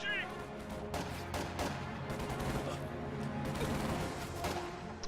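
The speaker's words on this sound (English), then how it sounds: "Anti-infantry strafe forces a retreat from these units." Anti-infantry strafe gunfire in a strategy video game: a continuous, fairly faint crackle of rapid shots and impacts that runs under a game soundtrack, with a voice talking over it.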